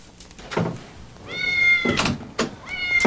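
A cat stuck inside a vent meows loudly and close, three drawn-out, rising cries with soft thumps and knocks between them.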